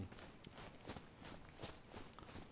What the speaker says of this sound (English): can hear footsteps and things